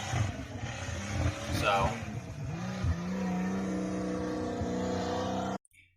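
A Toyota Cressida on its first drive after being built, its engine rising and settling from inside the cabin, with a person talking over the engine early on before the sound cuts off abruptly.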